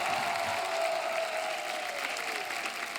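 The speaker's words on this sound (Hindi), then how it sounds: "जोरदार तालियां हमारे मेहमानों के लिए।" Studio audience clapping at a Hindi comedy talk show as the guests come on stage, a steady wash of applause with some crowd noise, even and unbroken from start to finish.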